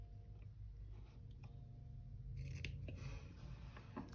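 Small scissors snip at an angle through material for a Christmas journal cover, several quiet close crisp cuts near the end over a faint background hum.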